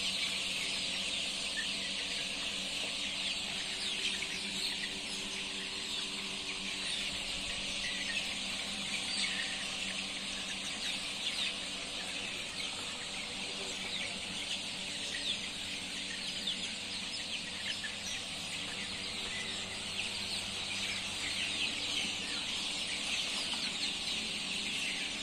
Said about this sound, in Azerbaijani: Saxlamalı kənd cücələri